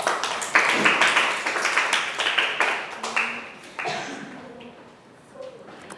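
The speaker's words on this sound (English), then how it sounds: "Let's give them a round of applause." A class audience claps in a burst of applause that gradually thins out, with scattered claps continuing as it fades.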